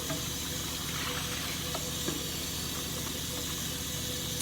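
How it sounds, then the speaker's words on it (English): Warm water runs from a tap over raw chicken pieces in a sink, a steady splashing hiss with small clinks, close and continuous. "I like to use warm water when I'm washing the chicken."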